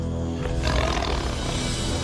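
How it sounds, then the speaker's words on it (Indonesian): A Sumatran tiger roars in the rainforest, a loud, rough, sustained growling roar that fills the whole moment with deep rumbling power. "Harimau Sumatera."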